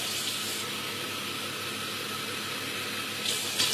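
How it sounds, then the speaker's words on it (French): Water splashing steadily into a cooking pot for couscous, a continuous pouring rush close by that barely changes, with a slight brighter splash near the end. "on va mettre 3 verres d'eau"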